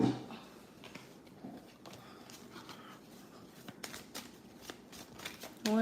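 Playing cards riffled, shuffled and handled at close range, a run of soft papery flicks and slaps with louder bursts near the end, under low room noise and no talk.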